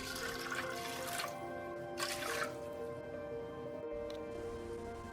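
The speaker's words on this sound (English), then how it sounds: "We need to wash first the beans before soaking" Beans are rinsed under running tap water in a kitchen, with steady splashing and a couple of louder gushes as the beans are stirred in the stream.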